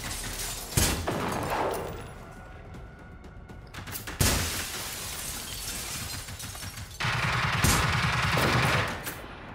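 Bursts of automatic gunfire in the video game Generation Zero, fired from inside a house, with loud rapid volleys at intervals and sustained shooting toward the end, no voices.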